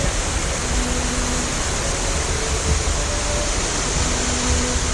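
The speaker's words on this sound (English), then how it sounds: "The waterfall there." A waterfall on a steep mountain descent, a steady broadband roar of falling water that stays constant and fairly close throughout, with no voices.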